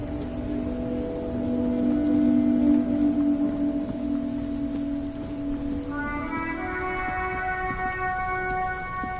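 Steady rain in the video game Disco Elysium, a soft continuous hiss with a sustained tonal drone and layered musical notes coming in partway through; no voices.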